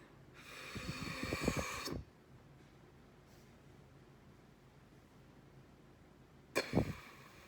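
A person doing a reverse rasp spitting breathing exercise for flute, two loud, close, noisy rasping bursts of air drawn in, one long then a short one after a quiet pause.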